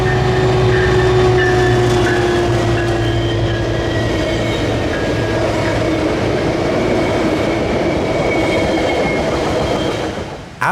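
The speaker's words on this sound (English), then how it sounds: "southbound Metrolink 668 for Oceanside was approaching Lifeguard Stand 9" Southbound Metrolink 668 bound for Oceanside rolls along beachside tracks, a loud, close, continuous rumble with wheel clatter that fades slightly at the end.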